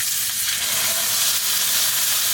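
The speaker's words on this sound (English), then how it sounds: "As soon as you lay this down, you should hear that sizzle." Steak sears in a hot pan, giving a steady, loud, close sizzle and crackle that holds without a break and has no voices over it.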